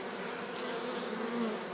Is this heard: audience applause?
no